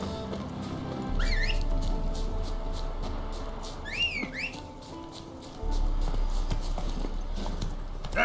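In The Witcher 3, a horse trots with soft rhythmic hoof clops under a low game soundscape, while a couple of high whistle-like squeaks rise briefly above it.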